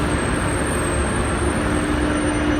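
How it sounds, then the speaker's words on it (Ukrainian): A metro train pulls out of an underground station in Prague, a loud continuous rumble and roar of wheels on rails filling the space, with a faint high whine over it. "на цей потяг я, друзі, не встигла, тому що ще не спустилася вниз"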